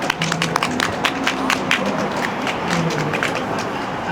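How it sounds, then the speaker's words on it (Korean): An audience gives warm applause, a dense continuous patter of many hands clapping at close range that carries steadily throughout. "우리 이상훈 대표님께 좀 뜨거운 박수 부탁드립니다."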